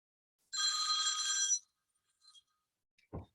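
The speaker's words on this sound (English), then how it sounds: "the bell is ringing" A mobile phone rings with a bright electronic trill during a classroom lecture, one burst of about a second, followed by faint small sounds and a short low thump.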